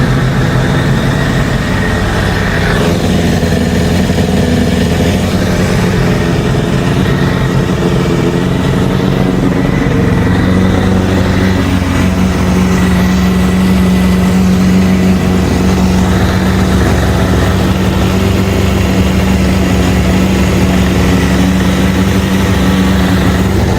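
A Suzuki Bandit 600 motorcycle's four-cylinder engine runs continuously close by with the choke on, a rough steady rumble that shifts in tone partway through and keeps going without pause.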